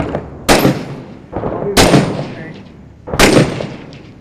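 Gunfire in the combat video game Six Days in Fallujah: three loud, sharp shots or bursts spaced about a second and a half apart, each with a rumbling echoing tail, faint voices underneath.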